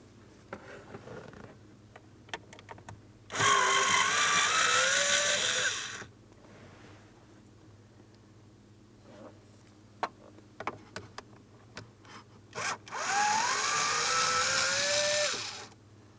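Two short bursts of a powered ratchet or small motorized driver backing out a pair of 5.5mm mounting bolts on the blend door actuator of a 2004-2008 Pontiac Grand Prix, each run whirring for a few seconds with quiet pauses between.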